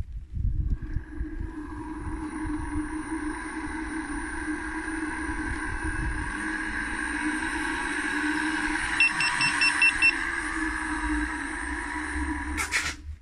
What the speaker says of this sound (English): The bearings get rusty, and I have now a clear sound of rusty bearings inside that